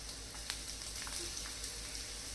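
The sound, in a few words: garlic frying on low flame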